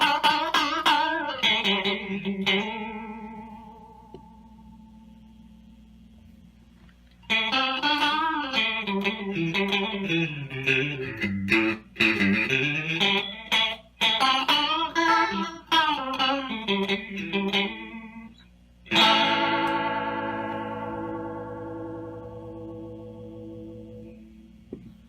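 An electric guitar is played through an Aural Condenser analog chorus and vibrato pedal at slow modulation speeds, giving wavering, shimmering chords and single-note phrases with sustained ringing decays and brief pauses between passages.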